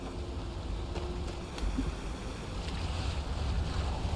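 Waterfall in Skyrim, heard as a steady, broad rushing roar of water that stays fairly constant and swells slightly toward the end, with no voices.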